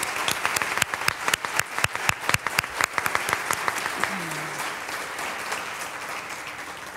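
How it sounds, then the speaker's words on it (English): Audience applause for speakers at the close of an innovation summit: scattered, uneven hand claps with some loud individual claps early on, settling into a steadier, fainter patter, with brief voice-like sounds partway through. "Please join me in a final round of applause for these individuals"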